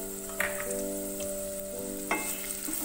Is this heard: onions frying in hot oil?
yes